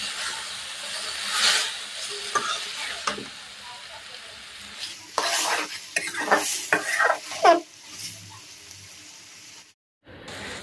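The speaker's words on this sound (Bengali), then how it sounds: "হালকা সেদ্ধ করে রাখা লতিগুলো দিয়ে একটু ভেজে নিলাম" Boiled taro stolons (loti) frying in a hot wok with onion, garlic, turmeric and salt, a steady sizzle broken by repeated scraping and clattering of a spatula being stirred, loud and close, with a brief silent gap near the end.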